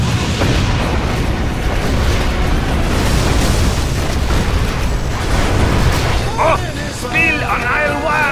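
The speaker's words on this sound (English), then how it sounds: "Arming cruise missile." Cruise missile launch and blast from the Shockwave strategy game, a sustained loud roaring rumble across the whole stretch with bursts layered in, followed near the end by brief game voice chatter over the noise.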